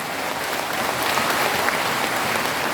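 Applause from an audience at a Korean political talk or rally, a steady wash of many hands clapping, even and fairly loud for the whole stretch.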